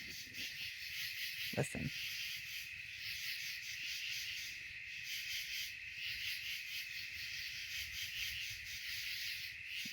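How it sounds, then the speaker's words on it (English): Cicadas drone steadily through the night around a tent at a trail campsite, a continuous high buzzing chorus that fills the whole stretch, with a single spoken word and a brief rustle near the start. "I'm taking this video so you can hear the cicadas."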